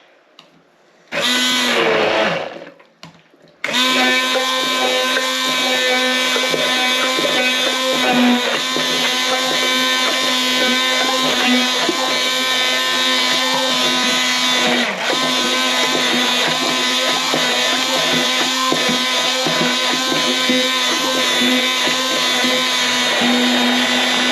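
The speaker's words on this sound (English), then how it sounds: "we're going to blitz this up first before we start adding the oil" A countertop blender blitzes salad dressing ingredients for a chicken pasta salad, starting with a brief loud burst, a pause, then a steady, loud, continuous whirring motor drone that runs uninterrupted to the end.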